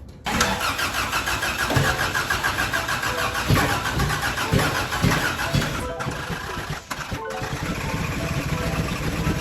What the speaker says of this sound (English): we're gonna try and drive the car